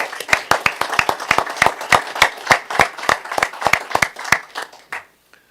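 Sparse applause at a city council meeting in Clarksville, a modest group clapping unevenly with distinct individual claps for about five seconds before fading out, moderately near.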